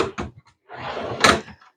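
A drawer in a hospital loss room slides open with a couple of short knocks followed by a longer scraping glide that ends in a brighter clack, all close by.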